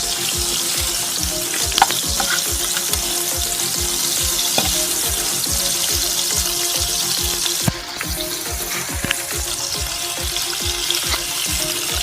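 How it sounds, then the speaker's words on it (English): Pizza bread frying in butter in a pan makes a steady, close sizzle that runs the whole time, with a few light clinks and stirring sounds over it. "add some butter in a pan and marinated the pizza bread with butter and fried it for 1 minute"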